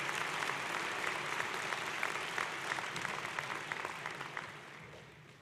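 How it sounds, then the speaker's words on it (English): A university commencement crowd gives the student marshals a sustained round of applause, a thick, even wash of clapping that holds steady and then tapers off at the close. "Let's give all of our marshals a round of applause for their help and participation today."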